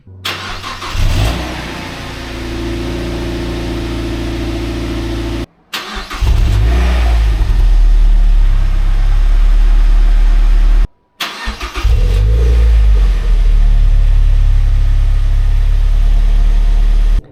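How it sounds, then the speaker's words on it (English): A Mazda MX5 engine cold-starts three times in a row, each start a brief cranking burst that settles into a loud, steady idle with a low rumbling drone and a strong low hum, with short silent cuts between the takes. "First, here is a cold start."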